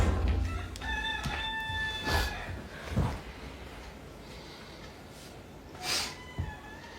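A rooster crows from a short distance, a drawn-out harmonic call near the start, with a couple of brief clucks and rustles afterward in a quiet outdoor setting.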